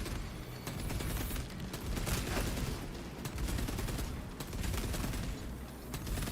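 Dense, continuous gunfire in Space Marine 2, rapid overlapping bursts and volleys at loud, steady intensity for the whole stretch.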